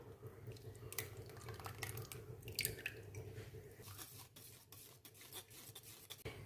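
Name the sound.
pouring a mixture through a strainer into a pan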